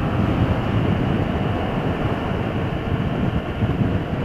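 A 2015 Yamaha FZ-07 (MT-07) motorcycle rolling on the throttle in fourth gear on a ride, giving a steady, loud, continuous engine drone mixed with heavy wind rush and no talking.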